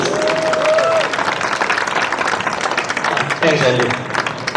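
A protest crowd at Hong Lim Park applauds steadily with dense clapping and some cheering for several seconds, while someone briefly speaks over it.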